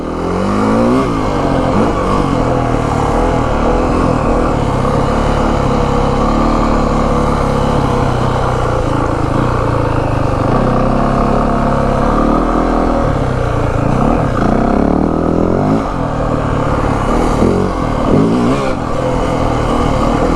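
A 2025 Yamaha WR 450F dirt bike ridden off-road, its engine loud and close throughout, revving up and down continuously with shifting throttle bursts and wind rush.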